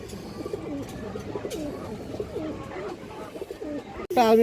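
A female pigeon coos repeatedly at close range at a pigeon seller's, with soft, rolling calls running over a steady background murmur, ending in a sudden sharp, high-pitched sound.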